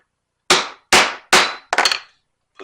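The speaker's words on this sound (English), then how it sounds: "Let's put a hole for the rivet." A punch strikes through thin leather to make a rivet hole, four sharp loud hammer blows in fairly even succession followed by one faint small tap, close and alone with silence between.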